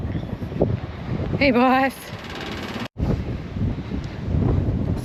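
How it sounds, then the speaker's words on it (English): Wind rushing through a farm barn on a gusty day, a steady broadband roar under brief talk, with a short voiced call partway through. "that is just the sound of the wind coming through our"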